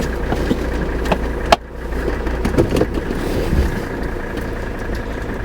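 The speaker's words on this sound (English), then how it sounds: "Let's go ahead and start it right up here." A 1985 Mercedes-Benz 300TD W123 wagon with a diesel engine cranks and catches with a sharp thump, then settles into a low, steady, chugging idle close by.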